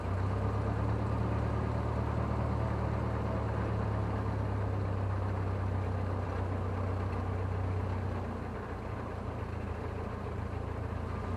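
Steady, loud drone of a 150-horsepower light aircraft engine heard from inside the cockpit, a continuous low hum with a slight drop in level near the end and no talk over it.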